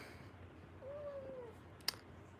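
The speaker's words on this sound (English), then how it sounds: "She meows so funny." A single quiet cat meow, a thin drawn-out cry lasting about half a second, rises from a hushed indoor room, with a brief click afterward.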